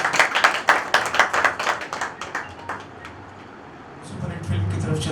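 An audience at a tribute concert claps in a short burst that fades within about two and a half seconds, followed by a quieter stretch and then rising room noise.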